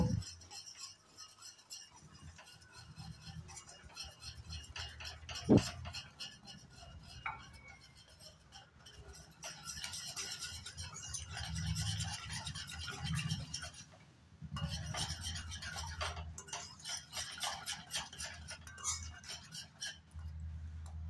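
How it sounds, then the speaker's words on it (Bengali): Patisapta pitha batter being stirred with milk in a bowl, giving a steady wet scraping and clinking of a utensil against the bowl that continues for most of the stretch, with a sharp knock partway through. "এবার আমি ভালো করে মিশিয়ে নেব।"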